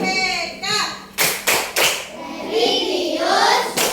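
A class of third-grade Indonesian schoolchildren claps a rhythmic chant in unison, sharp group claps falling in a steady pattern between stretches of children's chanted voices.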